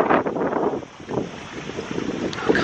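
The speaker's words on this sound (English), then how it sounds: "it's probably a bit windy up here" Gusty wind on a high cliff spot in Mallorca buffets the microphone with a loud, uneven low rumble that swells and dips throughout.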